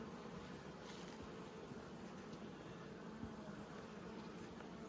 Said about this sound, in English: Beautiful quiet bees.